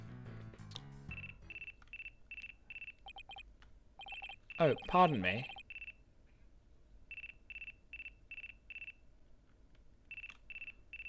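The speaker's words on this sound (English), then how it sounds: "Looks like a phone call." A phone rings in the Apollo Justice video game as a repeating electronic beeping pattern in short bursts, broken by game sounds and a brief spoken line in the middle.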